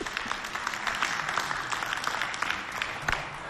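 Applause from a studio audience at a Valentine's Day variety show, a steady wash of clapping lasting throughout at moderate level with no one speaking over it.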